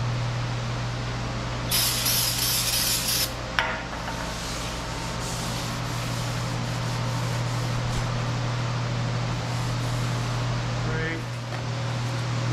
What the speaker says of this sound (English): I'm just going to clean off the metal first so I can get some good clean marks on it. And this is non-chlorinated brake cleaner